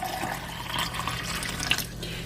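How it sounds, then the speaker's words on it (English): Water runs steadily from a tap into canning jars being filled for pressure canning, a continuous close splashing rush with no pauses. "so now I'm just going to fill up these jars with water."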